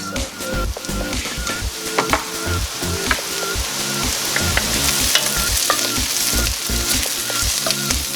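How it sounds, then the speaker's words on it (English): Tomato paste fries with aromatics for a pot roast, a busy sizzle with stirring clatter running under loud rhythmic background music. "So let's cook our tomato paste in with our aromatics."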